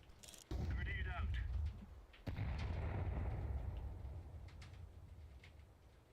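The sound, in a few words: grenade explosion in video game Counter-Strike 2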